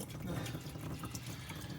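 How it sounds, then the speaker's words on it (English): Ordinary tap water pours steadily into a Midmark M9 sterilizer reservoir during cleaning, a continuous close splashing rush with a faint voice beneath it. "And then we're just going to add regular water."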